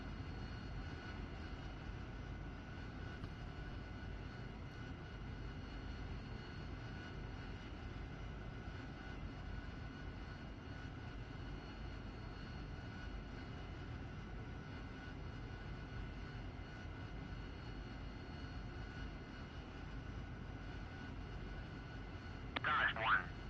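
AV-8B Harrier jet in the DCS flight simulator taxiing toward the runway, its engine a steady, continuous roar and whine that holds an even level throughout, with a brief crackle of radio noise near the end.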